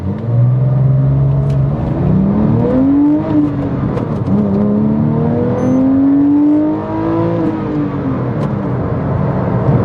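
Heard from inside the cabin, a Porsche 911 of the 997.1 generation revs up through the gears while driving, its engine note rising, dropping at each shift and climbing again, loud and continuous.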